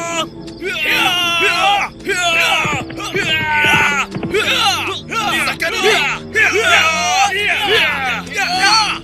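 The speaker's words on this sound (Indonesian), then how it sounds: "malam yang sunyi itu pun dipecahkan dengan teriakan keras" A crowd of attackers raises loud battle-cry shouts at night, overlapping yells and whoops from many voices in a continuous, close, intense din.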